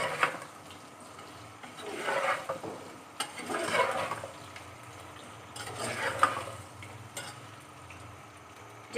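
Half a kilo of potatoes tossed and mixed in a pan, giving several soft scraping, rustling sweeps at an easy rhythm, with a light sizzle beneath, fairly quiet and close.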